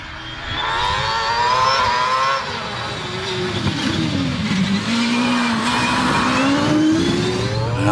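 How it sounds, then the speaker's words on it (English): DJ Firestorm hillclimb race car with a Cosworth XD V8 at a British Championship Hillclimb at Harewood, its engine roaring loud and close, pitch sweeping up and down through gear changes, then climbing steadily under hard acceleration. "Alex Summers plummeting down into the S's with the DJ Firestorm. Firestorm runs the Cosworth XD V8."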